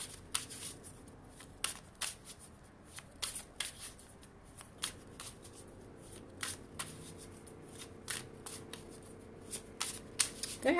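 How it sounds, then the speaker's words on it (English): Tarot cards shuffled by hand in a long, steady run of crisp riffles and soft slaps, close and fairly quiet, with no talking over it. "They're having me shuffle a long time."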